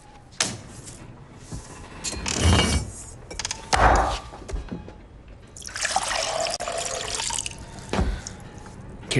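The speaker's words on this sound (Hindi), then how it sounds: "मुझे एक गिलास पानी दे दो बस।" Water poured into a glass as a drink is served, a trickling, splashing pour that comes and goes in several bursts over about nine seconds, at moderate loudness with other household movement around it.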